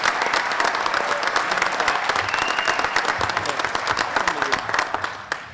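Sustained, loud applause and some cheering from a crowd for aircraft maintainers at a KC-135 departure ceremony at Pease Air National Guard Base, many hands clapping rapidly with voices mixed in, tapering slightly near the end.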